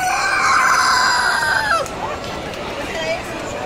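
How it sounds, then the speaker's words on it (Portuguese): A rooster crowing at a poultry fair (Expointer), one loud, close, drawn-out crow lasting nearly two seconds, followed by fainter clucking and crowd chatter in the background. "Olha o galo."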